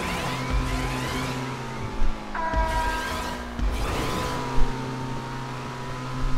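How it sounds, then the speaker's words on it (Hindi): Car drifting with tire squeal in the GTA Online video game, a revving engine whining through gear shifts with sliding tire noise and a few thumps, loud and close, no voices. "क्या ड्रिफ्ट हुई है गाड़ी"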